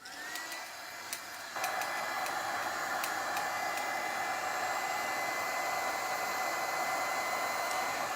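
Hair dryer blowing steadily on black gesso painted over an old camera, a continuous loud whoosh with a steady whine that steps up in strength after a soft start and holds alone.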